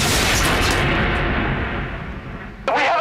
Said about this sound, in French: Au moment où le van commence à rouler, une explosion se produit.